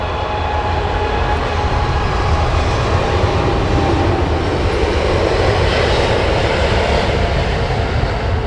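British Airways airliner at Heathrow Airport, a loud continuous jet engine roar with a deep rumble and broadband hiss that holds steady throughout, nearby and without talking.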